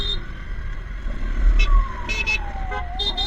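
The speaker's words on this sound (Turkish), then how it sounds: "İyi iyi geliyor ambulans." An ambulance siren wails in traffic, rising and falling over the steady drone of a motorcycle in motion, with people talking nearby.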